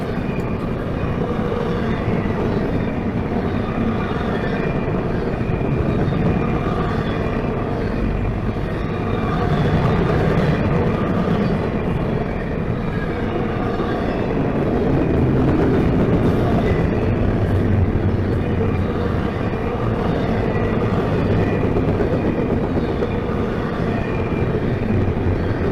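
CSX and NS freight trains pass fast near a road crossing, a loud, steady, broadband roar and rumble of rolling cars that holds at full strength for the whole stretch.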